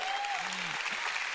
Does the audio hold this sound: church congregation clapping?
yes